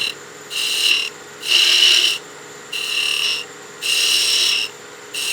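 Skew chisel cutting a cove in wood spinning on a lathe, a rhythmic series of four or five scraping, hissing strokes with brief pauses between, close up.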